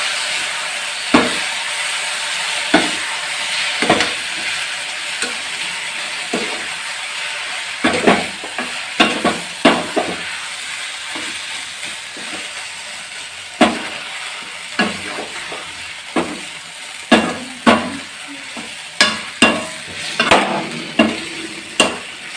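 Maggi noodles stirred in a frying pan, a continuous soft sizzle broken by repeated sharp spoon scrapes and knocks that grow more frequent and louder toward the end, close by with no speech.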